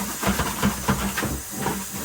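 Steady hissing spray of Clorox-laced water misting onto plants in a garden house, a continuous close whoosh with slight pulsing.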